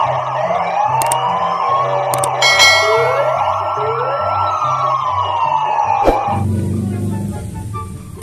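A toy police siren wails in steady rising and falling sweeps, loud and continuous, before cutting off into a short noisy rattle.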